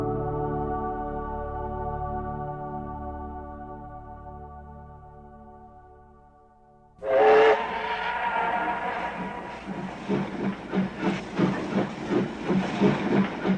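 A steam train whistle sounds a long sustained chord that fades, followed by a sharp hiss of steam and rhythmic chuffing as the locomotive starts pulling away.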